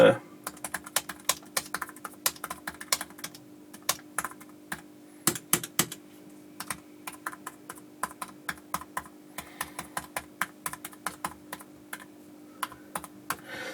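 Typing test on a Dell XPS 13 2-in-1 2019 laptop keyboard (model 7390): a steady run of light, crisp key clicks with short bursts and brief pauses, close to the microphone, over a faint background hum.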